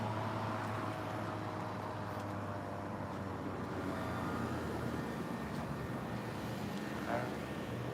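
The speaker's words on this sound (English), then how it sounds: "Why is he doing an engine sound right now?" A car engine passes on a city street amid steady traffic rumble, with a semi truck and other vehicles nearby, a continuous low drone lasting several seconds.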